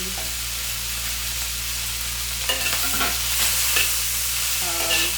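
Cumin lamb stir-frying in a hot pan as scallion and cilantro go in, a steady close sizzle broken by a few scraping stirs of a utensil, with no voices.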